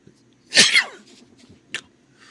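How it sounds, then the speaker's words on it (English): One sharp, loud sneeze close up, then a quieter sniff and a brief breathy exhale, alone with no talking. "Oh, and it made me sneeze."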